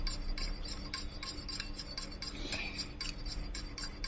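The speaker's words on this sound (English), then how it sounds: "now I'm giving this a stir" Aloe vera gel mixture being stirred in a container, giving repeated light clinks and scrapes of a utensil in a steady rhythm over a constant background hiss, close by with no voices.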